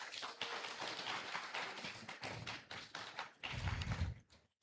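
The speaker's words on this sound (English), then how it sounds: "I think that deserves a round of applause." A round of applause at a medical school induction and awards ceremony, dense clapping spread across a crowd, fairly faint and steady, with a heavier burst of claps near the end before it fades out.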